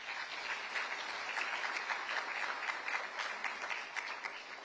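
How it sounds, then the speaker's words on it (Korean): An audience at a Korean government vision-declaration ceremony for a global AI hub gives a big round of applause. Dense clapping holds at an even level throughout, with no voices over it. "특별하게 오늘 참석해 주신 우리 김민석 총리님께 큰 박수 부탁드리겠습니다."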